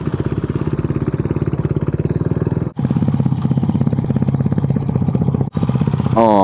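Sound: motorcycle engine idling

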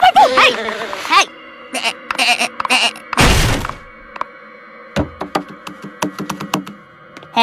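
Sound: pig goat bleating, cartoon

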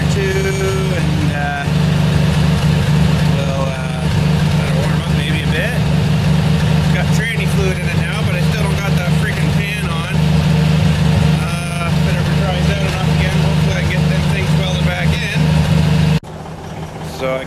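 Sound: old jeep engine idling after cold start

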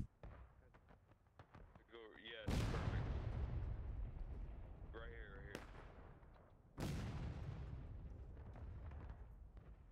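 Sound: artillery cannon fire in the video game War of Rights

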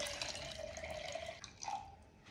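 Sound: cold water being poured into a bowl

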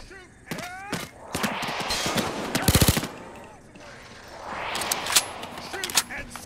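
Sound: gunfire in the video game Payday 2

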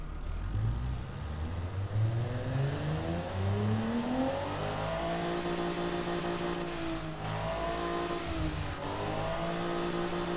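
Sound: car engine revving during a test in the video game Automation

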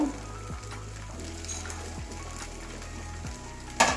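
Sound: cauliflower paratha frying in a pan

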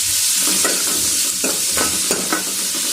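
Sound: potatoes being stirred and fried in a pan

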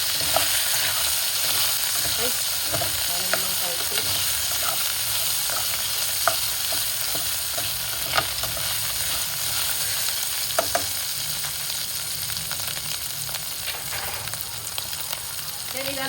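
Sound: sautéing pork in a pan for Bicol Express

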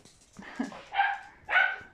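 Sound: dogs barking in a village

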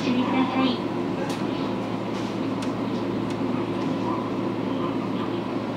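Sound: SL Hitoyoshi steam train ride, JR Kyushu Kagoshima line

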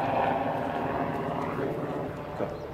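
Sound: helicopter flying overhead

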